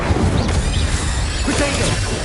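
An Incendio fire spell is cast in Hogwarts Legacy, a loud crashing burst with a swooshing flare over game music and combat noise, under a character's voice.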